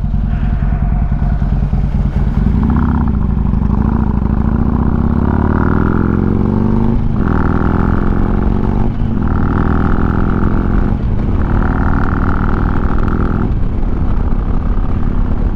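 Harley-Davidson Street Glide Special with a Screamin' Eagle 120R engine accelerates hard through short-shifted gears, loud, close engine rumble rising in pitch in repeated surges with brief dips at each shift.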